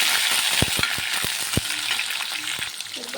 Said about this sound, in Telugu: ఇదిగో ఆనియన్ గోల్డెన్ కలర్లో ఫ్రై అయింది కదా, ఇప్పుడు ఇందులో కొంచెం అల్లం వెల్లిపాయ పేస్ట్ వేసి ఫ్రై చేస్తాం.